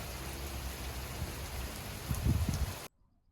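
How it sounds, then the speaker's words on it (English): Rain falls steadily on an outdoor yard near sprinkler work, a soft continuous patter with a few louder close thumps toward the end before it cuts off abruptly. "right when I went to start working, it starts raining"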